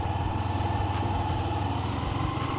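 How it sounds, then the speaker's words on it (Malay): A Yamaha Y15ZR motorcycle engine revs steadily under a held throttle, a continuous mid-pitched drone with a faint rhythmic ticking on top, close and fairly even in loudness throughout. "pulas minyak sampai motor tu mengerang macam ni"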